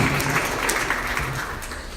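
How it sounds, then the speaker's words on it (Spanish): A church congregation applauds for the King during an Easter resurrection service, a dense, steady wash of clapping that fills the space throughout, with no clear voices above it. "Un aplauso al Rey."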